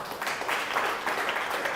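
An audience in a coffee shop claps after a conversation event, a steady, moderately loud patter of many hands that fills the short stretch without any talk over it.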